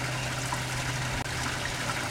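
Water from a small garden pond waterfall trickles and splashes in a steady, continuous flow, moderately close and unbroken apart from a tiny dip.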